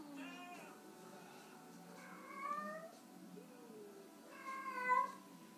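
A house cat meows repeatedly nearby in a few drawn-out, wavering calls spaced across a few seconds, over a low steady background hum.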